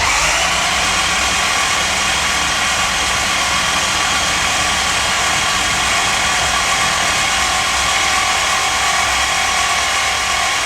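Jaguar XK120 engine cranking over to build oil pressure, a steady, loud, continuous mechanical whir and drone held evenly throughout, close and alone without voices.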